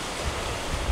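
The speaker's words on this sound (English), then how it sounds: "The waves are now spread out pretty good." Offshore sea waves surge and wash around a sailboat, a constant rough rushing with wind noise, close and fairly loud for a brief moment.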